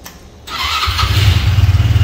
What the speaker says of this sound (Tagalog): Ay, motor na motor yung sounds, ha?